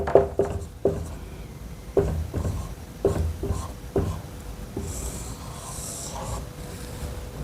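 Pen or marker writing on a surface during a physiology lesson, heard as a series of short scratchy strokes in bursts, close and moderately loud, with no talking.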